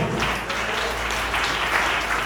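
A church congregation applauding during a sermon, a continuous wash of many hands clapping at an even, fairly loud level for the whole stretch.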